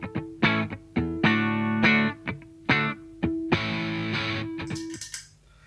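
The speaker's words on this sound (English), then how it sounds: "This is the clean sound, by the way." Clean, unaffected electric guitar tone through a Donner Echo Square delay pedal setup, played as a series of strummed chords and ringing notes with sharp attacks, loud and close, with no echo tails, alone without talk.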